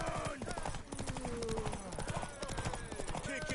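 Rhythmic horse hoofbeats clatter quickly over a dense, busy soundtrack from the video game The Witcher 3: Wild Hunt, with music and voices layered on top.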